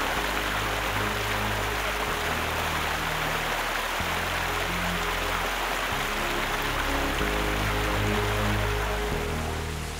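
Water in a stream rushes and burbles steadily at close range. The flow is dense and unbroken for the whole stretch, with no voices.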